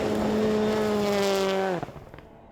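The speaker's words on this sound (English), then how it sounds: "Brazil's driving the Hyundai i20 R5." A Hyundai i20 R5 rally car at Rally Liepāja holds a loud, steady engine drone, then drops off sharply, followed by a few fainter rattles.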